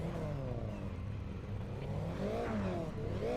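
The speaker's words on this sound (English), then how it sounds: "Hear those little 4 bangers revving up, getting ready to go." Several Toyota GR86 four-cylinder engines rev on the starting grid in a racing video game, a dense overlapping buzz of engine notes rising and falling at moderate distance, with no voices over them.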